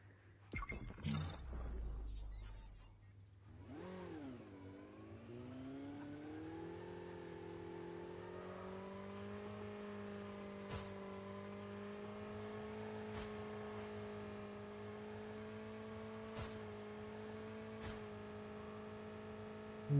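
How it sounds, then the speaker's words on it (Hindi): A motorbike engine in the Call of Duty video game starts with a short rumble, then settles into a steady, even hum that holds without change for the rest of the stretch, with no voices over it. "यहाँ से बाइक निकालते हुए चलते हैं"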